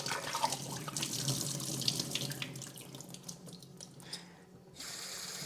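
Water runs from a tap into a container used for growing wheatgrass, a soft steady hiss and splash that shifts in tone as it fills, quiet and close.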